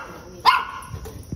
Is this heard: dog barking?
yes